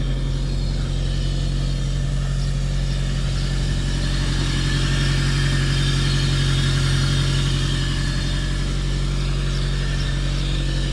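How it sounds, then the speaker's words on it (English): A Toyota MR2 engine fitted with an induction kit built from scrap parts idles steadily and loudly up close, a deep constant hum with a slight swell in the middle and no talking. "I definitely hear more induction noise."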